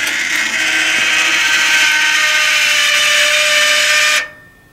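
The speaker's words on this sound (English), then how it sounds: "you'll see the auger spin 1 time" A vending machine auger in an SM22 unit turns one revolution for a single vend, giving a steady, loud mechanical whir that holds evenly for about four seconds, then stops abruptly.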